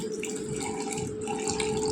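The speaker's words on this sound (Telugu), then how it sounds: "నీళ్ళు వేసుకుందామండి తగినన్ని" Water is poured steadily into a mixer jar of mango pieces, a continuous close splashing flow with a faint hum underneath.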